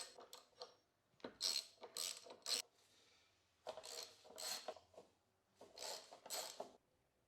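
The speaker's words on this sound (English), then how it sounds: "slacken the caliper mounting bolts, the axle bolts and the pinch bolts" Ratchet wrench slackening the caliper mounting bolts, axle bolts and pinch bolts while a wheel is removed, heard as several close bursts of rapid clicking and grinding with short pauses between, no speech.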